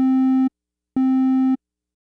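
Synthesizer triangle wave sounding a steady A220 note, two sustained tones of about half a second each separated by a short gap, clean and loud with no other sound.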